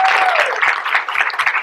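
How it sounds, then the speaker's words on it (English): A meeting audience breaks into loud, close applause, dense overlapping clapping that carries on steadily with a faint voice briefly audible at the start. "Let's give them a round of applause."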